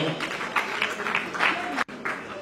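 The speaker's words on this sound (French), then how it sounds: "Applaudissez très fort, applaudissez très fort." Theatre audience applauding in a tribute to a late actress, with dense clapping running steadily throughout and a brief dropout near the end.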